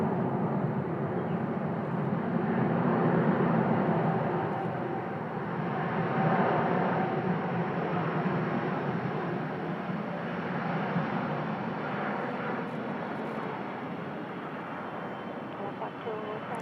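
Jet engines of an Aeroflot Boeing 777 spooling down near the runway at Bangkok, a steady broad roar that swells and eases over the whole stretch with no talk.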